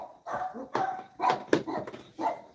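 Several dogs bark in a series of five or six sharp, moderately close barks with short pauses between them, heard on their own without talk.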